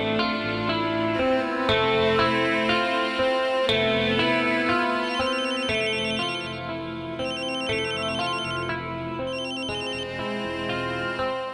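A mobile phone ringtone plays alone and fairly loud, a melodic electronic tune that repeats in steady phrases for several seconds.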